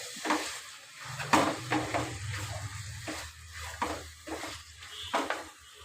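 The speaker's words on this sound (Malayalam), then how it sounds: "പിടിക്കാതെ നന്നായിട്ട് ഇളക്കിക്കൊണ്ടിരിക്കുക." A spoon stirs a beetroot and coconut sweet mixture in a pan, giving repeated scraping strokes and soft clinks with a light sizzle underneath, close and steady.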